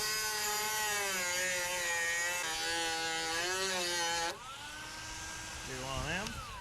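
A Dremel rotary tool whines steadily as it grinds a slot into a Phillips screw, turning it into a flathead, on the intake of an 88 Mazda B2200. The pitch shifts as load changes, and the tone drops and rises near the end.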